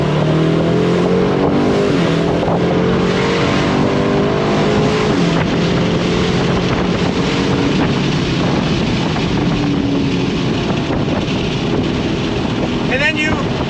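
A 2024 Aston Martin DB12 Volante accelerating hard, its engine roaring loud and continuous with climbing, layered harmonics and constant wind buffeting.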